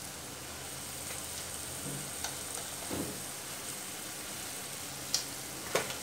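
Peas, cauliflower and carrot are sautéed in spice masala, a soft steady sizzle with a few scattered spoon taps and scrapes, close but quiet, with no voices.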